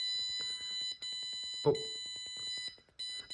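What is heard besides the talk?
alarm buzzer of distance-sensor chicken coop security system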